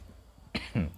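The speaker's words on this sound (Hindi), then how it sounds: "खांसी हो गई है" Two short, sharp coughs from a person teaching a class, close and loud after a brief quiet stretch.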